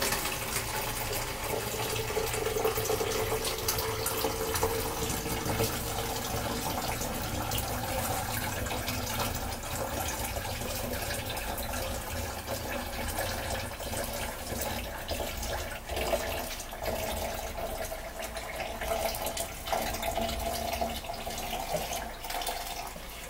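Water runs steadily from a tap while hair is rinsed, a loud continuous splashing rush with no breaks and no talk.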